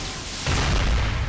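A single deep boom of an explosion effect in the Seven Deadly Sins Grand Cross gacha game, rising into a heavy, rumbling roar that holds to the end.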